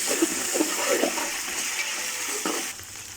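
Ginger garlic paste sizzling and frying in a hot pan with stirring scrapes and a clink near the end, close and steady.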